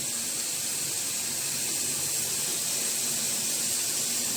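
Meat for a restaurant-style béchamel pasta sizzling in a pan while stirred, a steady close hiss of frying fat that holds evenly without pause, no talk.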